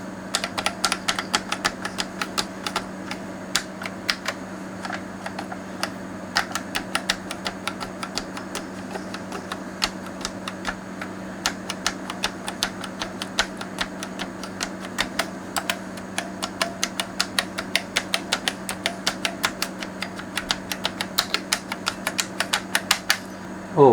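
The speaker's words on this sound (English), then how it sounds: "It's going to do a keyboard test." Keys on a 1986 Sinclair Spectrum+2 home computer are pressed one after another during a keyboard test, producing a long run of crisp, irregular plastic clicks over a faint steady hum.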